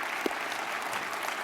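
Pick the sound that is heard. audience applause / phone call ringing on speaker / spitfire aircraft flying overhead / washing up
audience applause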